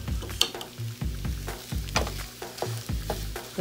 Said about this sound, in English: go ahead and scramble your eggs however you normally scramble your eggs